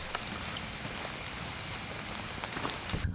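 Rain falls steadily on a tent and gear at a jeep campsite, a soft, close patter of scattered drops with occasional louder taps, faint and continuous.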